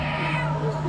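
A human voice imitating a cat's meow, one short, loud, close call.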